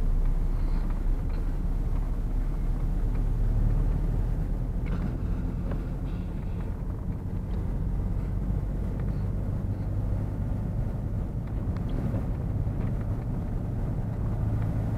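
A car engine hums steadily inside the cabin during a driving lesson, a constant low rumble with road and wind noise, rising slightly as it gathers speed, with no clear separate events.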